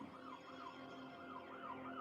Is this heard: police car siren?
yes